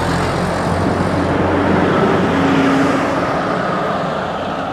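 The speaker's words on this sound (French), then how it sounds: "ce camion, il se dirige vers le port est" A truck drives along the port road inside Port Ouest on Réunion, heading toward Port Est. It makes a steady, broad rumble that swells slightly and then fades, fairly close and loud, with no talk.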